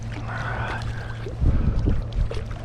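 Paddle strokes pushing through water during a long 20 km paddle, a few soft splashing surges over steady low boat and water noise, close by and alone.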